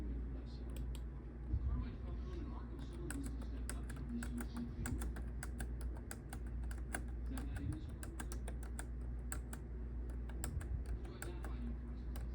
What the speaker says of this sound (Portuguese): Estou digitando aqui os números das matrizes, que é grande.